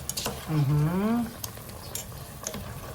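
Oil sizzles and is stirred in a pan while tinola is being cooked, with scraping strokes and a short voice-like tonal sound early on, then steady frying underneath.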